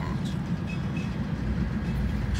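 A train hauled by two Norfolk Southern Dash 9 locomotives rumbles steadily nearby at night, heavy low-frequency engine and wheel noise filling the whole stretch without pause.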